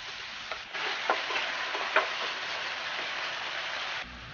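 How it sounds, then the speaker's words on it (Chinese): Ginger, garlic and sweet rice wine stir-fried in hot oil in a wok make a steady, soft sizzle, with a few sharp spatula scrapes and taps near the start. No one talks. "再起锅热油，倒入姜末、蒜末，煸炒出香味"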